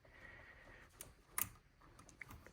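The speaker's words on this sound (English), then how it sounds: "when you push it on and it's securely on, it'll kind of click." A quick-connect fitting on a BMW 328i radiator hose snaps into place, giving a sharp, close click amid a few lighter handling clicks; no one talks.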